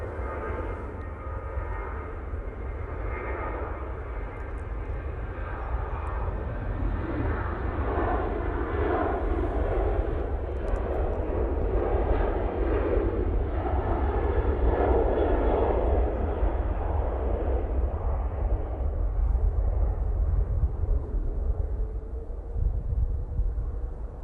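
Airliner on its takeoff roll at Manchester Airport, a sustained engine roar that builds and swells over the run with heavy low rumble, heard from a distance and steady throughout.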